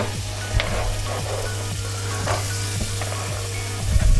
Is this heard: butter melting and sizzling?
yes